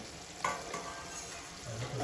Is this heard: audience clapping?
no